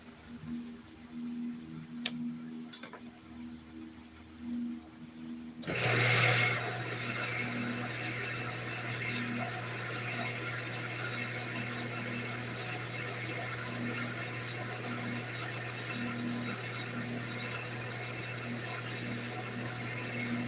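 A wood lathe spins up after a quiet start and runs steadily as a wooden piece is sanded through finer grits, giving a constant motor hum under a continuous dry hiss of abrasive on spinning wood.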